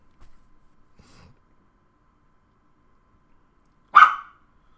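A puppy lets out a single sharp bark near the end, close and loud, after a few faint shuffling sounds and otherwise quiet surroundings.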